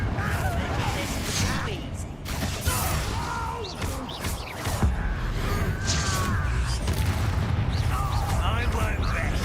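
Blasting-spell explosions go off in a Hogwarts Legacy battle, with repeated booms and crashes amid clattering combat effects and shifting magical whooshes in a busy, dense mix over its full length.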